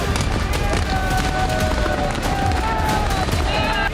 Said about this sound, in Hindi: पुलिस से टकराव, पुलिस पर हमले, आगजनी और आतिशबाजी के धमाके।